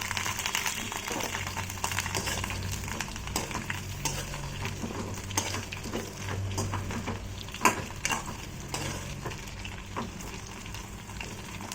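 Brinjal pieces fry in hot oil for a Kongu-style oil brinjal tamarind curry, a steady close sizzle with intermittent stirring scrapes and soft pan knocks throughout.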